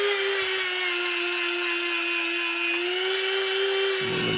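A Dremel with a flap disc polishes a titanium handlebar for a 1988 Yeti FRO bike build, a steady high whine running close and loud before cutting off at the end.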